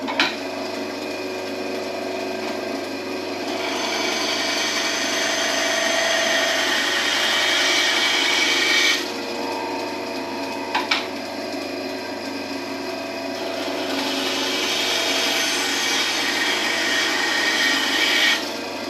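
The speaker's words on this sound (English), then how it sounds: "Bandsaw just to trim that in." Bandsaw trimming a piece of wood for a boat fitting: a steady motor hum with a rasping cut that swells, pauses briefly midway, then resumes, fairly close and without talk.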